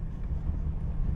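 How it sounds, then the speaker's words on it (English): Strong wind buffeting outdoors on a dirt road near a parked Jeep, a steady low roar close to the microphone. "It is so windy! Super windy out."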